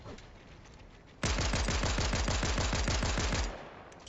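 A rapid burst of about fifteen evenly spaced gunshots in a battle royale video game, loud and close, starting abruptly after a quiet stretch and stopping cleanly.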